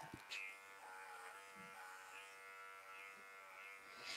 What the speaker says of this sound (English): I can also go over the coat with this clipper.